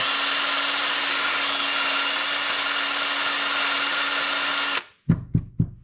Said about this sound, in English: It's basically a brush. It goes into your cordless drill.